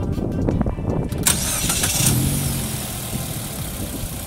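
A Mitsubishi Xpander with a Saber middle-muffler exhaust starts up with a short crank and catch, then settles into a steady, loud idle rumble, recorded close by with no talk.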